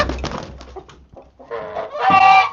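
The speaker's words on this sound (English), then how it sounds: "the rooster's now attacking the peacocks" A rooster attacking peacocks gives loud, agitated clucks and squawks up close, in jumbled bursts broken by a short lull, ending in a strained crowing cry.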